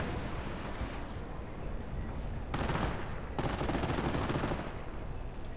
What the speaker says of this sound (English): More artillery coming down.